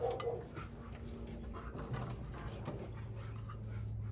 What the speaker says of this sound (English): Dogs are going off.